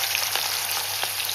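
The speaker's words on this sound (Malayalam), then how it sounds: "ഇനിയിപ്പൊ അതിനൊരു ചിക്കൻ പൊരിക്കാൻ വെച്ചിട്ടോ." Chicken frying in a pan gives a steady, close, bright sizzle with a few soft crackles for the whole moment, and no talk.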